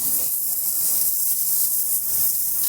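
Burger patties laid on a hot griddle sprayed with oil give off a steady, loud, close hiss of sizzling that continues without a break and without any voices.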